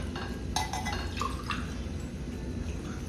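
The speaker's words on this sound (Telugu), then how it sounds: "ఇంకా 2 గ్లాస్ వేస్తున్నాను వాటర్" Water poured from a glass into a pot of soaked jowar for sankati, with soft splashing and dripping, a few brief clinks, and a steady low background hum throughout.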